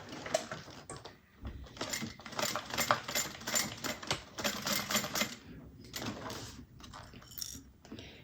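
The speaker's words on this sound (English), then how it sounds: "I'm going to go ahead and sew that" A sewing machine stitches a clutch bag along a quarter-inch seam, running in close, uneven mechanical bursts with brief pauses between runs.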